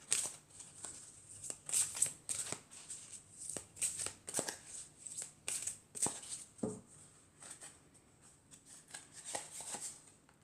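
Oracle cards being shuffled by hand, a quick rapid flutter of riffling bursts repeating for several seconds before slowing into softer slides and taps as a card is drawn, close and quiet with no speech.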